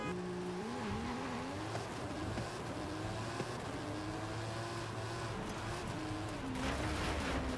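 A 976-horsepower Jeep Trackhawk races in Forza Horizon 5, its engine droning and rising and falling through gear changes in a continuous, fairly loud roar that runs the whole way.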